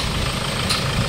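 A Hyundai Starex engine idling with a loud knock, a steady low rumble with a dense, rough clatter held at close range for about a second.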